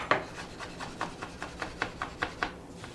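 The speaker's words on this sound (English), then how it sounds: "rough chop it, and then I'm going to take my blade and rub back and forth" A kitchen knife rough-chops, then its blade rubs back and forth over a salted ingredient on a wooden cutting board, giving a steady series of about ten rasping strokes, close and clear, without speech.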